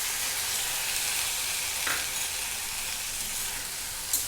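Vegetables stir-fry over a high flame with chili, soy and tomato sauces for Hakka noodles. A continuous loud sizzle carries a brief scrape of stirring midway and a small clink near the end.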